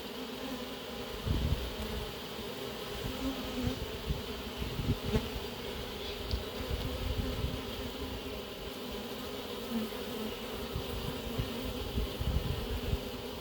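Honey bees buzz steadily and continuously close by as a package colony settles onto a new hive, a dense insect hum holding throughout with no voices.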